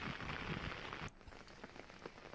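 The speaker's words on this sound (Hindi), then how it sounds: "जोरदार बारिश हुई।" Heavy rain pours down in Neemuch, Madhya Pradesh, as a dense, steady hiss of drops striking surfaces, close and continuous without any voices.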